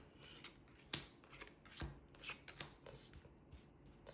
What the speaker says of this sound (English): dealing out some more cards.